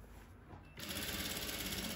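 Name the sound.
straight sewing machine stitching a dress seam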